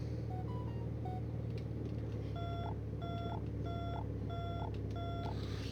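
The landing gear warning alarm of an SF260D aircraft beeps in a steady repeating pattern, five evenly spaced tones, faint under the continuous drone of the engine and cockpit.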